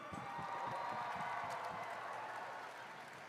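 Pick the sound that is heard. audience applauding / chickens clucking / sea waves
audience applauding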